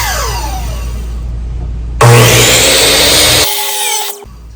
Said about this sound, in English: 8-inch for my old chop saw